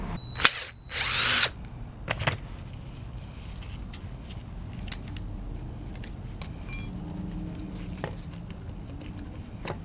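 Power drill with a socket spinning out a fastener during fuel pump removal on a 2003 Ford E350; one loud, brief burst near the start, followed by faint clinks and low workshop background.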